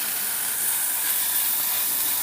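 Chili powder hits hot oil with sautéed onions for an Andhra-style ridge gourd dal, making a loud, steady, close sizzling hiss that continues unbroken without any talking.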